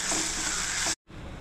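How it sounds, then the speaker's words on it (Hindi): Chopped onion frying in a pan of hot oil with hing, turmeric and cumin, a loud hiss that cuts off sharply and then returns more quietly. "अभी मैंने प्याज डाला है दोस्तों"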